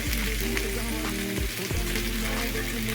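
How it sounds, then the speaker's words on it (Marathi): Chopped onion, carrot, broccoli and corn sauté in a hot pan with a steady, close sizzle and brief stirring scrapes, with no talking. "आता याच्याच मॉइश्चरमध्ये याला आपण थोडंसं फ्राय करू, थोडं सॉटे करून घेऊ."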